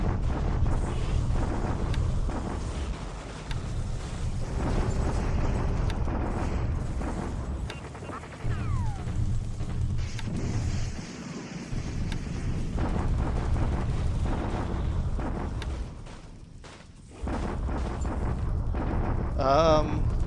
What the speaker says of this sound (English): But we're bombarding back.